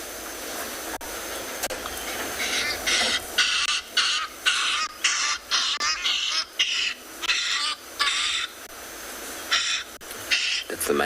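A recorded call of a male hadeda ibis plays back on a sunset safari, loud, harsh, honking bursts repeated in a rapid, uneven series over a low background hum.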